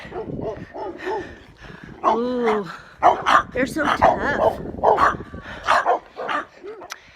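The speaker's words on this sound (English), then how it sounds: "I've got a vicious corgi and a vicious lab barking at me." A corgi and a Labrador bark repeatedly and excitedly, close by, with yips mixed in while a person talks over them.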